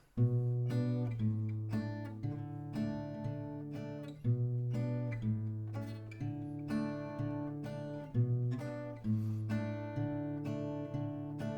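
An acoustic guitar plays a plucked melody with ringing notes over bass tones, steady and close, with no voices.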